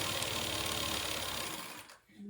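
An embroidery sewing machine stitches at high speed in a steady, close, continuous mechanical whir, which stops abruptly near the end.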